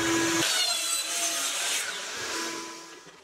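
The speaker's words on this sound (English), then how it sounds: "So you have to be creative on the miter saw by making one cut and then flipping it and doing the other cut." A miter saw cuts through wooden drawer bottoms, a loud close burst of blade whine and wood rasp that fades as the cut ends.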